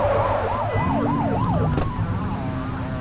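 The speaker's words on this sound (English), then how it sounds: "Get on their tail and flip the siren." A police car siren in the video game The Precinct wails in a rising-and-falling yelp cycle over a steady engine drone, then cuts off partway through while the vehicle keeps running.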